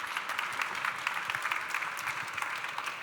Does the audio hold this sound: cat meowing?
no